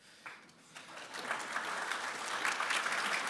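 Applause from a tech conference audience starts with a few scattered claps, then builds into steady, moderately quiet clapping that continues to the end.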